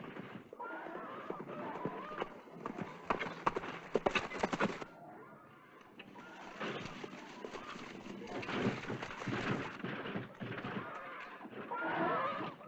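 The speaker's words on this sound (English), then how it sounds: "There's a horse coming." A horse approaching in an old Western drama, its hooves clip-clopping steadily amid shouting voices and an occasional whinny, the footfalls growing nearer over a busy outdoor scene.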